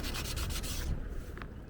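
A piece is sanded by hand with sandpaper, a quick series of close, rhythmic scratchy rubbing strokes that stop partway through, leaving a quieter room.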